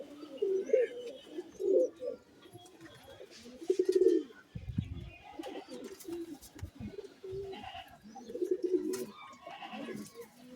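Pigeons cooing in repeated soft, throaty phrases at close range, with some chirps and a few thumps and rustles mixed in.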